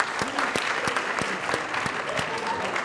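Lecture class of students applauding together, a moderate burst of hand claps with a few sharper individual claps standing out, a faint murmur of voices underneath.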